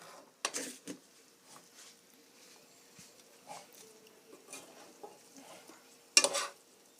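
Crispy vegetables being stir-fried for lo mein, quiet sizzling under intermittent scraping and tossing of a utensil through the pan, with a few sharper clatters.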